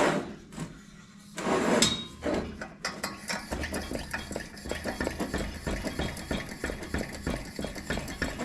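A vintage garage sale lantern is pumped by hand, its pump giving a run of quick, fairly close mechanical strokes and metallic clicks with a few louder rattles near the start, no voices heard.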